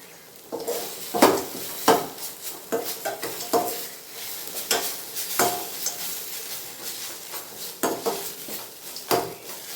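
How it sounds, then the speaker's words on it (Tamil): Ingredients for mango rice sautéing in a pan while a metal spoon stirs and scrapes, giving repeated clanks and scrapes in an uneven rhythm over a soft sizzle, close up. "இன்னும் 2 நிமிஷம் நல்லா வதங்கட்டும்"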